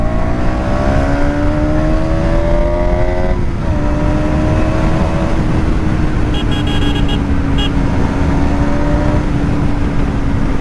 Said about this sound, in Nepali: ड्युकको साउन्ड त बाफ रे गाइज यार अति दामी